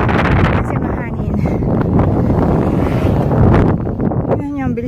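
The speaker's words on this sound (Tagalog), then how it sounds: "Can you hear that wind? Ang lakas ng hangin." Strong, steady wind buffets the microphone outdoors on a windy day near a paragliding area with dandelion fields, a continuous loud roar that runs under a person's talking throughout.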